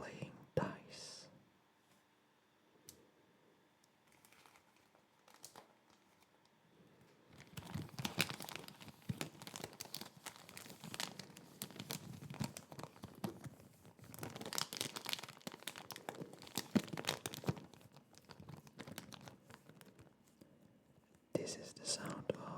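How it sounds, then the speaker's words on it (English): Plastic bags crinkled and crumpled up close in a quiet ASMR setting, a long dense rustling with swells and pauses after a few sparse opening sounds. Faint whispering is heard. "This is the sound of plastic bags."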